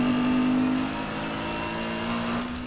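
BMW M4 with straight-cut gears in Need for Speed Heat, its engine held at a steady high drone throughout, loud and continuous with a slight dip in intensity partway through.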